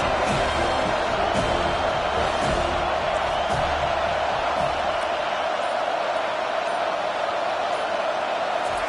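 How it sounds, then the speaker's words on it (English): A loud, steady stadium crowd roars and cheers throughout a College Football video game dynasty match, a dense, continuous wall of noise with scattered whoops and no clear break. "They challenge this crowd to bring the energy, and I'd say they're doing that."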